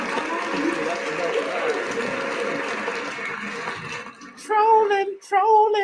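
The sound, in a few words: round of applause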